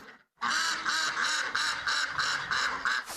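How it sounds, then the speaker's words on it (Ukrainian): Ducks kept at a shelter farm for displaced people on the grounds of an old hospital quack in a steady run of loud, close, evenly spaced calls with no talking. "навіть тримають курей та качок"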